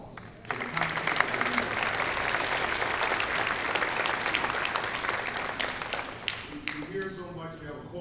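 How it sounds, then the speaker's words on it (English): At a university welcome event, an audience breaks into loud, dense applause that starts abruptly, holds steady for several seconds, then cuts off as a voice resumes. "give yourself a round of applause"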